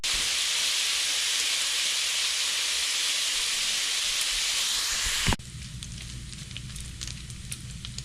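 Bacon sizzling in a hot pan gives a loud, steady broadband hiss for about five seconds, then cuts abruptly to a quieter, lower crackle as the pan comes off the heat.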